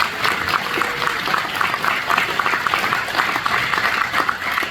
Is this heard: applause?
yes